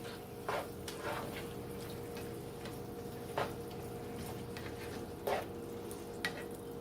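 No-salt-added canned tomatoes being stirred into a chicken skillet, a faint low simmering hiss with a few soft, scattered scrapes and taps of a spoon.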